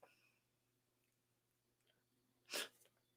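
A single sharp sneeze from one person bursts out close by after a few quiet seconds of faint room noise.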